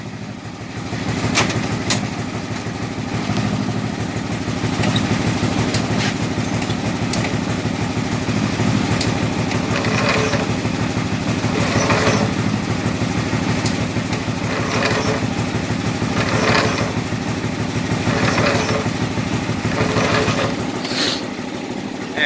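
A motor runs steadily just after starting, with the clutch pushed in, giving a loud, continuous idle rumble with faint clicks and rattles over it and no talking.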